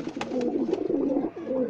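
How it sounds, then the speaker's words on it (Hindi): Several pigeons cooing close by in soft, overlapping throaty murmurs, with a few faint sharper chirps mixed in. "सारे इकट्ठे हुए हैं आज कबूतर"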